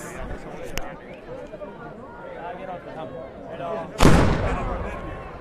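Mascletà firecrackers exploding at a neighborhood Fallas in Plaza Roma, Valencia: a loud distant burst erupts near the end after a stretch of crowd chatter and talking, with scattered smaller pops before it.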